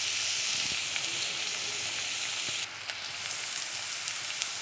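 Chopped onion and large-cut green chillies fry in a pan over raised heat, giving a steady, dense sizzle that runs the whole time and drops slightly partway through, with a few faint clinks underneath.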